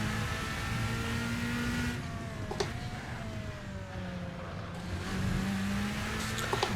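A race car engine in Assetto Corsa drones steadily as the car drives during an endurance race, the pitch rising and falling with shifts and throttle changes and a few clicks over it.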